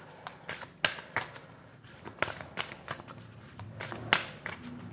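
A deck of tarot cards shuffled up close, a quick series of crisp riffling flutters and soft slaps in an irregular rhythm, with no talking.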